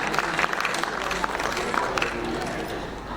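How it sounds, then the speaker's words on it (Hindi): An audience claps at a Hindi literary award ceremony, a dense crackling round of applause with crowd voices mixed in. "एक बार तालियों के साथ अभिवादन अभिनंदन इस मंच का"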